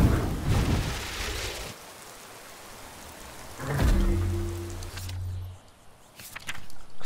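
Steady rain patters in Skyrim, a continuous wash of drops with a low rumble of thunder rolling through the middle, moderately quiet and without speech.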